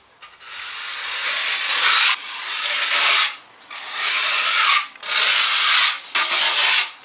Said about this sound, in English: you can possibly use your trowel just to cut it